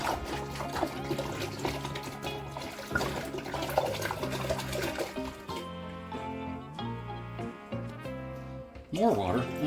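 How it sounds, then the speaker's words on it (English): Water poured into a jug while making homemade wine from Walmart grape juice, a gurgling, rising fill with splashy trickles and pauses, close and moderately loud. "More water, and as you get closer to the top, be a little more careful with the pouring"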